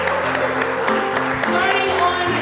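An audience breaks into a brief round of applause for a live church music ensemble, the clapping mixed with lingering musical tones and a few voices.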